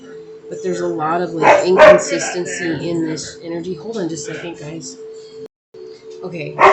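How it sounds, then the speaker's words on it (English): Dogs bark and yip in the background while someone talks steadily over them, the barking fairly close and partly masked by her voice. "Sorry about the dogs, guys."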